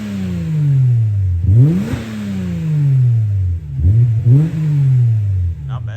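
A Subaru Legacy 3.6R boxer engine, after sitting for a year, is revved hard twice, each time rising sharply and then falling away in a long, smooth descending whine, loud and close.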